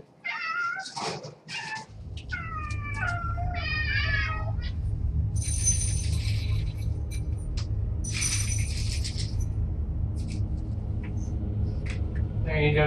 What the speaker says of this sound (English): please stop meowing and getting in front of me and such